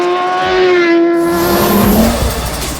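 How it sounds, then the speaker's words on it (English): A Triumph TT600 motorcycle engine revs hard with the throttle held wide open, loud and close, its whine climbing and then easing off, with no voices. "Triumph TT600. Loud, isn't it? Crank the throttle all the way open."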